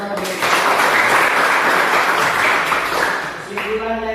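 Classroom applause from a group of students, a steady dense burst of clapping lasting several seconds and fading near the end, with voices audible underneath.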